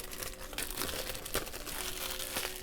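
Small scissors snipping and peeling the plastic wrap off a beige A5 notebook, close, soft crinkling and crackling with a few sharper snips, no talking.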